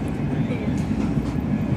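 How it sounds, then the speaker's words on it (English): Steady low rumble of a moving train in London, heard from inside the carriage as a continuous drone with faint rhythmic rattling, close and constant throughout. "I'm glad that we're on the train"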